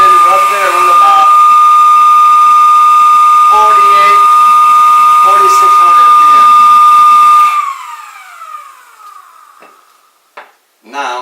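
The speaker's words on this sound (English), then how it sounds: "here's the motor, DC motor. It's spinning right there on about" A DC motor spins at about 4600 RPM with a steady high-pitched whine and hiss. Someone talks over it before the motor winds down and stops, followed by brief handling noises.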